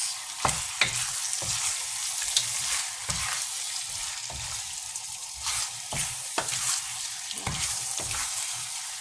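Cheesy buttered garlic shrimp fry and sizzle in a pan under a continuous loud hiss, while a utensil stirs and scrapes in irregular clacks close by, with no voices.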